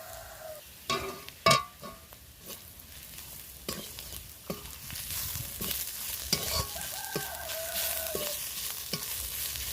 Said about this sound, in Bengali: খুবই কম তেলে রান্না করছি